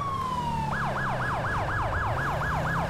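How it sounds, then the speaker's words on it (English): Police car siren from the GTA 5 LSPDFR game, a steady rising-falling wail repeating about every third of a second, loud and continuous over low engine rumble, with no talking. "You guys get to hear the brand new siren, which is so sick."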